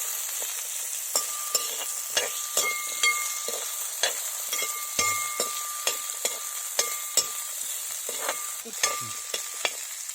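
Cut ivy gourd frying in a pan for a Kerala-style kovakka curry, a steady hiss broken by repeated sharp clicks and taps of a spoon stirring against the pan, close and fairly loud.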